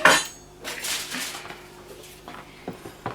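A glass oven-proof tray being handled for a pizza pasta casserole, giving a sharp clink at the start followed by softer scrapes and light knocks close by, with no talking.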